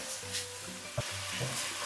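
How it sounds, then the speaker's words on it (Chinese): Green beans and sliced pork belly, splashed with cooking wine, stir-fried over high heat in a wok: a steady close sizzle with scraping stirs and a brief clatter near the middle. "繼續大火快炒"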